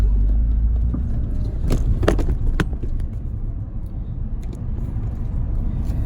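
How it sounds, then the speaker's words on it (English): A Mazda RX-7 FD with a rotary engine idles steadily, a deep continuous rumble with a few sharp clicks and rattles partway through, heard close up. "Rotary engine sound."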